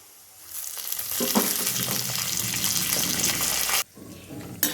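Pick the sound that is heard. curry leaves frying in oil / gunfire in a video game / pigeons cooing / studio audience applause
curry leaves frying in oil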